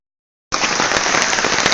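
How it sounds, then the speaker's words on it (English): Heavy rain pours down during a thunderstorm and starts abruptly after a brief silence. It makes a loud, steady roar with scattered crackling drop impacts close by. "it's pouring with rain. We've had thunder and lightning here"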